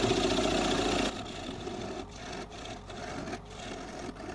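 A small-handled gouge takes light cuts into a spinning wooden bowl on a lathe: a steady motor hum with a rough scraping tone, easing after the first second into softer, rhythmic rubbing cuts.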